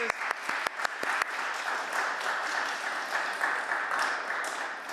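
An audience applauds student presenters at an art vote event, opening with a few sharp, separate claps that swell into a steady, even wash of clapping that holds for several seconds.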